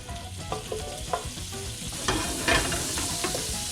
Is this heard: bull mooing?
no